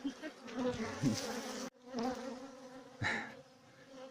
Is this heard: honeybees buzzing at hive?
yes